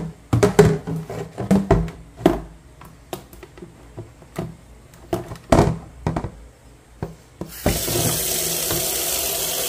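Water for a pet bath: a run of sharp clatters and knocks from handling a container, then a faucet opens and tap water gushes steadily into it, loud and close through the final seconds.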